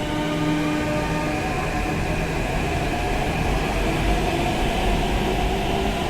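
A Hyderabad Metro train pulls away from the platform after its automated doors lock, a broad steady rumble and rolling hum filling the space close by, continuous with no talk.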